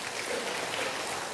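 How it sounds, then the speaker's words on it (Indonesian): Church congregation clapping together during a sermon, a dense even wash of applause filling the moment with no breaks, moderately loud. "Boleh kasih tepuk tangan yang terbaik untuk Tuhan kita"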